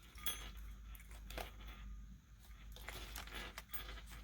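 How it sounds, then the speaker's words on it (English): Small bell dangling from a paper clip on a handmade holiday card holder, giving faint, quick metallic tinkles and jingles in scattered bursts over a quiet background. "So I have that bell on here. I think it's so cute, and I love hearing that noise."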